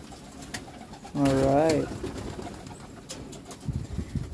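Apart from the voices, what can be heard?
pigeon returning home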